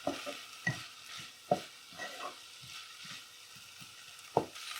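Fish mixture with turmeric and pepper cooking over medium heat, heard as a quiet, soft sizzle broken by scattered taps and scrapes of a spoon stirring in the pan.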